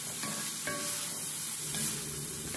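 Pancit canton noodles and vegetables, including green beans, are stirred while frying in a pan, giving a steady close sizzle with soft scraping and spatula movement.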